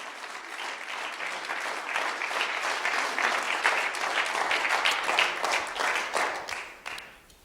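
Congregation claps loudly during a Spanish-language sermon, a sustained wave of applause that peaks midway and tapers off near the end.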